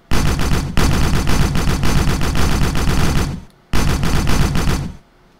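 Rapid automatic gunfire from a video game rattles loudly in dense, sustained bursts, broken by two short pauses before stopping abruptly.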